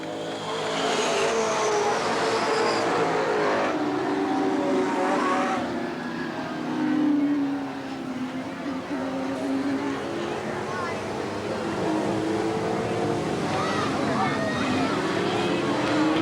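Race cars roar around the oval at Eugene Speedway, engines swelling and fading as they pass through the turns, under continuous announcer commentary.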